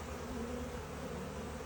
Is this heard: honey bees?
yes